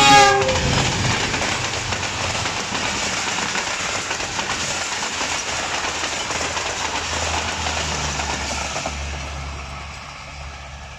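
A private passenger express train rushes through a green, calm rural railway station, a loud sustained roar with a brief horn at the start and rail clatter fading away toward the end.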